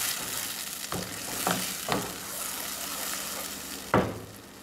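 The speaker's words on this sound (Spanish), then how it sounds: "Calentar 2 cucharadas de aceite, que ya está aquí bien calientita. Vamos a agregar aquí nuestra salsa de tomate." Tomato sauce fries in hot oil for rajas-con-queso tamales, a steady bright sizzle broken by about four sharp spoon strokes scraping the pan, close and fairly loud, with no voices.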